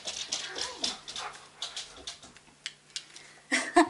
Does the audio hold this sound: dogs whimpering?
yes